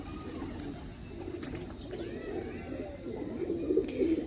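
An old Saharanpuri breed pigeon coos softly in a few low, throaty bursts, close by and fairly quiet against faint room background.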